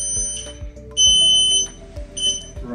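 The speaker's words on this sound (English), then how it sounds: "When you heard the beep sound, you can use front" An electric wheelchair powers on with bright electronic beeps in short repeated bursts over a low mechanical hum, sharp and close.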